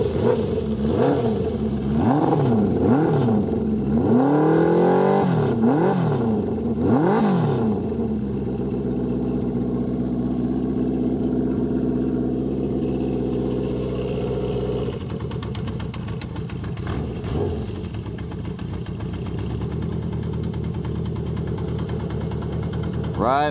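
A Honda CB350F motorcycle engine starts cold and is revved in rising and falling swells for several seconds, then settles into a steady, even idle that runs on close by.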